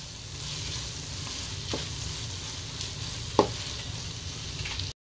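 Chicken gravy with stock sizzles steadily in a frying pan while a spoon stirs it, giving continuous frying hiss and occasional soft scrapes and clinks of the utensil, heard up close with no voices.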